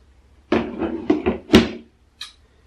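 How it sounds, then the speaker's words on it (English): A bathroom drawer packed with travel-size items is pulled open and pushed shut at close range, a quick run of wooden sliding knocks and rattles followed by a brief faint clatter, with no talking. "And now for the last drawer, which I know has quite a bit of stuff in it."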